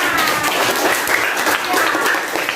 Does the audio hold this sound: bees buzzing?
no